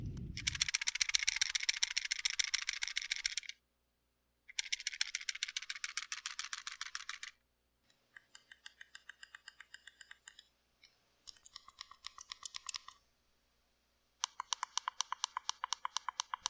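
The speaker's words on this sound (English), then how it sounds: "There's just a loud click, audible click, every time you press something. And there's a lot of rattle." An Anbernic RG35XX SP handheld console gives bursts of rapid, sharp button clicks and plasticky rattling, close and loud, in several runs separated by brief silences, with no talk.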